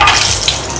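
Cashew nuts frying in ghee for Kerala banana pradhaman, a brief close, dense sizzle heard alone.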